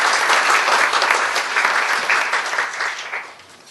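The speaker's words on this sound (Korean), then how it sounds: "큰 박수로 맞이해 주시기 바랍니다." A workshop audience on corporate creative learning through culture and the arts applauds to welcome a presenter, sustained close clapping that fades slightly toward the end.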